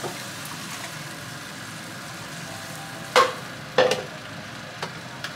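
Tomato puree goes into a frying pan and is stirred: a low, steady sizzle runs throughout, broken by two short, close scraping stirs near the middle and a few faint clicks after.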